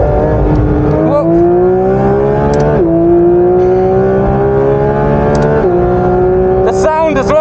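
Porsche 992 GT3 RS with a naturally aspirated flat-six at full throttle on the Spa circuit, a loud, continuous high-pitched wail climbing steadily through the gears with sharp dips at each upshift, heard from inside the car.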